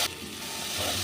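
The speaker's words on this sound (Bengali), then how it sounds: "এবার দিয়ে দিচ্ছি অল্প একটু কাশ্মীরি লঙ্কার গুঁড়ো দিয়ে আর একটু ভেজে নিচ্ছি" Spice paste with Kashmiri chili powder frying in a pan, a steady close sizzle with stirring, loud and continuous with no voices.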